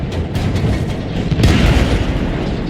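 A JagdPanzer IV tank destroyer cannon shot in World of Tanks booms with a deep, heavy blast, followed by a rumbling battle soundscape.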